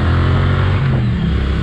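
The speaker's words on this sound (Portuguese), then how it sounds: "Dando uma pequena acelerada na moto para ver como que tá o barulho aí." A motorcycle engine revs loudly up close, a rough throaty roar that swells and falls over a couple of seconds.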